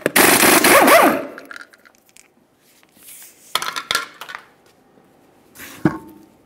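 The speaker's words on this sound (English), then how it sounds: "remove all five of your 21 millimeter lug nuts and then the wheel" A Mercury Grand Marquis wheel's 21 mm lug nuts come off: a loud, rapid burst of impact-wrench hammering opens, then scattered metallic clanks and rattles of nuts and tools follow, close by, with no talking.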